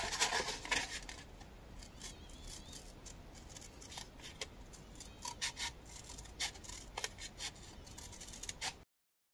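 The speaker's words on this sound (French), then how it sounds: "Et ainsi, par l'intérieur, on peut y passer le ciseau" Scissors cut through a cardstock frame card in quiet, close snips and rasping strokes. The cuts come in an irregular series over a faint background with no voice.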